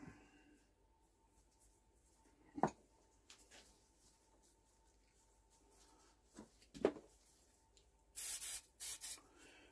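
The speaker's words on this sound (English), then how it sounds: "A little bit of maintenance spray." Quiet handling noises with a few sharp clicks while servicing a 1960s two-stroke generator, then two short bursts of maintenance aerosol spray hissing near the end.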